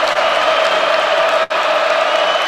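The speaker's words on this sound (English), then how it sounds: "Student section trying to get the crowd into it." A basketball arena crowd at a college game keeps up a loud, dense wash of cheering and applause, broad and continuous with one abrupt momentary dropout near the middle.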